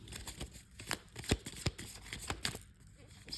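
A deck of tarot cards is shuffled by hand close by, with a run of crisp riffling snaps and soft slides.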